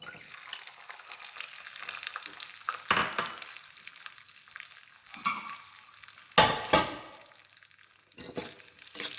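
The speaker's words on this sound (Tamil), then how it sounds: "இது கொஞ்சம் வறுத்து கொஞ்சம் பொன்னிறமா திராட்சை நல்லா மேலுக்கு வரட்டுங்க" Raisins frying in ghee until golden for paruppu payasam, a soft steady sizzle with occasional sharper clatters of stirring and a utensil scraping the pan, no voices.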